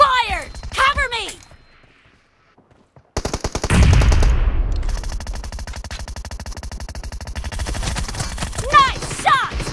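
Automatic gunfire in the mobile battle royale shooter PUBG Mobile erupts after a short silence as a loud, rapid, sustained burst of shots continuing over several seconds, with brief game voice callouts before and after.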